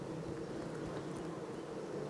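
Honeybees buzz at a beehive as a steady, dense drone of many insects, close and continuous with no talk.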